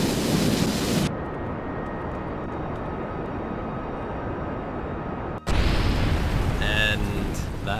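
A rocket blows up in the Kerbal Space Program video game as a loud, sustained roaring rumble, cut off by a sharp drop, then a second heavy blast with crackling debris; people talk over it.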